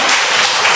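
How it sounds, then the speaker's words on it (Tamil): An audience at a Tamil devotional music festival claps together in a dense, loud, steady burst of applause. "இதுக்கு பெண்கள் நம்ம கிளாப் தட்டக்கூடாதா?"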